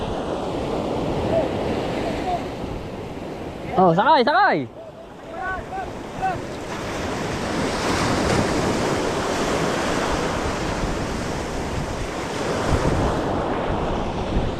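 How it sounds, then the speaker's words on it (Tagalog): Big ocean surf breaking and rushing on a windy shore, loud and continuous with heavy wind buffeting. People shout briefly partway through. "Laki ng alon."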